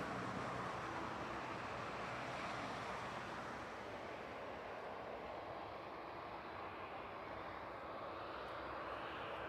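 A cargo or passenger aircraft engine at East Midlands Airport at night, a faint, distant broadband roar that holds steady and slowly fades, with no voices.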